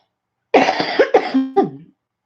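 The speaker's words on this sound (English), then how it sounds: "I kind of felt that cough sneaking up for quite a while." One person coughing up close: a raspy run of three or four chesty coughs that trails off with a strained, voiced rasp.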